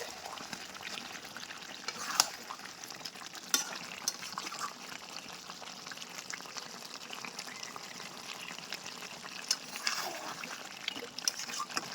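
Mutton with yogurt and meat masala bubbling and sizzling in a pot, a steady wet crackle with occasional sharp clicks of a spoon against the pan, close and moderate, with no talking.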